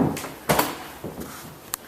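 A door is handled close by, with a sharp knock of it opening, some rattling movement, and a brief click as it shuts.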